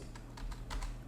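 Rapid keystrokes on a computer keyboard while text is entered in Word, a short burst of a handful of close clicks.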